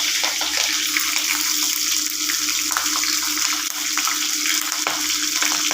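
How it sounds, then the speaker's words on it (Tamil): Curry leaves with dried red and green chillies are frying in hot oil for a bottle gourd kadasal. A loud, dense sizzle crackles steadily throughout, close up. "கருவேப்பிலை, வரமிளகா, பச்சை மிளகா இதையும் போட்டுக்கலாம்."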